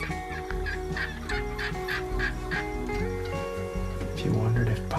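Wild turkeys gobble from their roost at dawn before flying down, loud repeated rattling gobbles in quick bursts overlapping one another, with a voice talking beneath.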